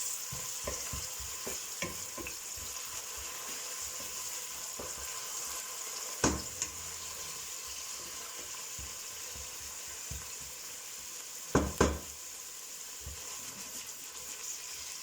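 Frozen peppers stirred into a sizzling pork-rib stew, a steady fry hiss under soft spoon scrapes with two louder clanks near the middle and the end.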